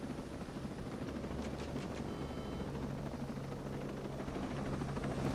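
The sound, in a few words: helicopter landing on a mountain in the video game Ghost Recon Breakpoint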